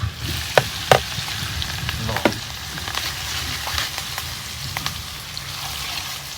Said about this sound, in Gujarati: હવે નાખશું આપણે લસણ મરચા